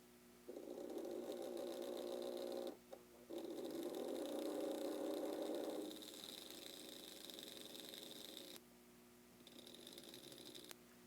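A Lionel HO model train motor, weak with almost no torque, whirs with a steady electric hum under power, cutting out briefly, then continuing at lower level before a faint high-pitched whine near the end.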